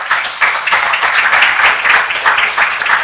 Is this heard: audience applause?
yes